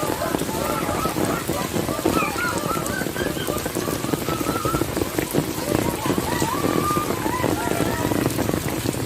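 Heavy rain falling in a village, a dense, loud, continuous hiss of drops on surfaces, with scattered bird calls audible through it.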